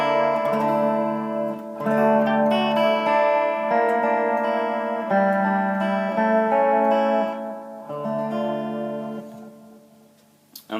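Electric guitar through a delay effect with the chorus switched off, from a touring rock rig: sustained chords and notes ringing out with trailing repeats, moderately loud and alone, fading toward the end.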